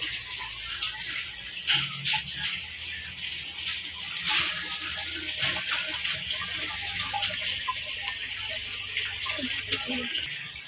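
Water runs at a home fishing pond, a steady close rushing hiss with occasional soft knocks and rattles underneath.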